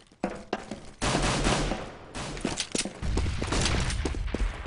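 Rapid bursts of gunfire in a shooter video game match, dense overlapping shots in quick succession with a sharp single shot among them, loud and close.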